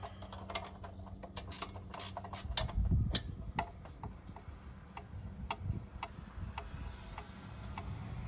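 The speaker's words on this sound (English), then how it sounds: "Hold on to the wrench, Justin." A wrench ratchets in a steady series of sharp clicks during farm machinery repair, close and fairly quiet, with a low thump of handling partway through.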